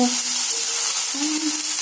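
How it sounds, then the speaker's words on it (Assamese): Potatoes fry with softened onions in a pan, producing a loud, close, continuous sizzle with a faint tonal hum underneath. "আলুখিনি অকণমান ভাজি ল'ম মই 2-3 মিনিটমান"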